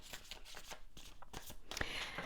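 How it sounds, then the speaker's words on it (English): A deck of cards is shuffled by hand in a quiet room, giving a series of soft riffling bursts and taps, close and low in level, with no talk. "I'll shuffle a few times here and see if anything flies out"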